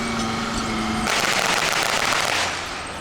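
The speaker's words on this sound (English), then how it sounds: "Those guns are powered by propane and oxygen." Propane-and-oxygen powered simulated guns fire on an armored vehicle at a WWII encampment, a loud rapid burst of rattling bangs over a running engine.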